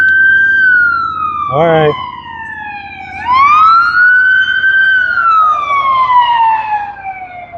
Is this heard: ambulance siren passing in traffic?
yes